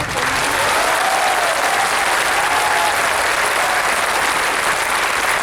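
Sustained audience applause at a B.C. Chhavra academy program in Bhilwara, a dense, steady wash of many hands clapping close by for about five seconds with no break.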